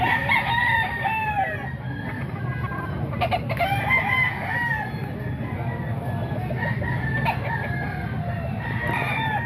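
Roosters crow at a market, a Boston Sweater bullstag among them, with several drawn-out crows and clucks rising over a busy, noisy background.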